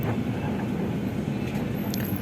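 Train passing a level crossing near Cerme station, heard from a vehicle as a steady low rumble with brief high metallic squeals near the end, no talk.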